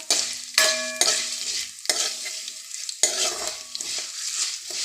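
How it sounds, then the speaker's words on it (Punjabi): Maggi noodles stir-roasted in a hot pan, a steady close scraping and sizzling as a spoon stirs and tosses them, with a few louder scrapes and no talking. "ਹੁਣ ਜਿਹੜੀ ਆਪਾਂ ਨੇ ਮੈਗੀ ਕੱਢ ਕੇ ਰੱਖੀ ਸੀ ਇਹਨੂੰ ਆਪਾਂ ਭੁੰਨ ਲੈਣੀ ਰੋਸਟ ਕਰ ਲੈਣੇ"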